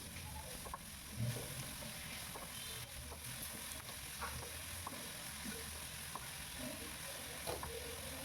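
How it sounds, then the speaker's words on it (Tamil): Steady sizzling and frying of mint leaves in a pan with occasional stirring scrapes, a constant crackle throughout and no voices. "1 கப் புதினா இலை நல்லா கழுவிட்டு சேர்த்து ஒரு 30 செகண்ட்ஸ் புதினா இலையை நல்லா வதக்கிக்கலாம்"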